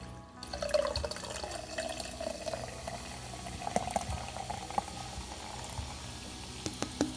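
Water in the space game Unforgiven Space, a steady low bubbling, trickling flow with faint drips, heard alone and fairly quiet throughout.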